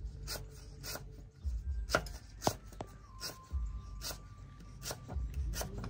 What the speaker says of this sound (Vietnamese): Xắt xả, xắt xoài mình trộn đều lên.